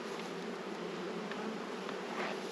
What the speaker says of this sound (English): a bunch of pretty good looking bees